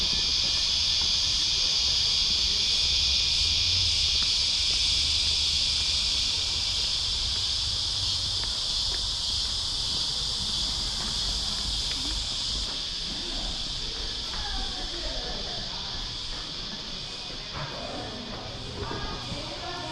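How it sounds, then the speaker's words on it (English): Cicadas drone in a steady, high-pitched buzz that never lets up, filling the air from all around with faint outdoor background beneath. "the serenity of those cicadas. They just don't ever stop."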